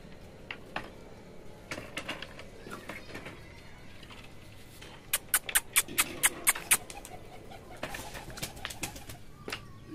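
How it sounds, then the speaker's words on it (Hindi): A Rampuri pigeon coos softly and beats its wings in a burst of sharp flaps as it lands, with scattered clicks and light rustling around it in a quiet setting. "ये माशाल्लाह से दोस्तों आ गया रामपुरी कबूतर"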